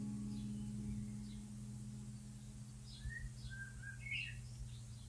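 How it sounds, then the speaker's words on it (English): Faint, distant birds chirp and twitter sporadically over a low, steady background rumble. "and the birds."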